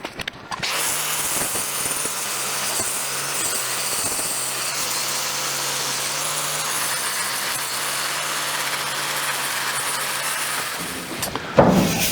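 A power grinder working lead filler on a car body panel, a loud continuous high whirring grind held steadily for about eleven seconds before it stops.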